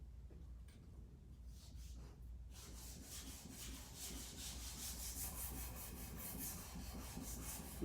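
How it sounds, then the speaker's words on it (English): A metal hand plane being flattened on sandpaper during a tune-up, a continuous close gritty rubbing that starts soft and grows louder and denser after a few seconds, with rhythmic back-and-forth strokes and no talk. "That way I'll be able to see where it is that the sandpaper is hitting the metal."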